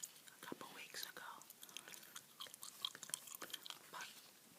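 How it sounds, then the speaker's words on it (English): Fruit Stripe chewing gum chewed close to the microphone gives soft, wet, irregular smacking and clicking, quiet and intimate, with faint whispered speech mixed in. "And here's the gum I'm chewing this evening, by the way. Fruit stripe. Chewing gum."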